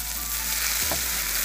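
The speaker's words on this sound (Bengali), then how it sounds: "সব ভাজা ভাজা করে নেব।" Onions with dried red chillies, bay leaves and five-spice seeds fry in hot oil, a steady close hiss of sizzling with a brief clink of a utensil, no voices.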